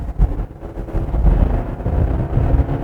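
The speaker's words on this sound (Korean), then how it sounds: "이 자연의 배기음도 나쁘지 않은데요?" A Genesis GV80 facelift SUV engine roars steadily at full throttle with active sound turned off, a loud low rumble and natural exhaust drone with rushing wind noise throughout.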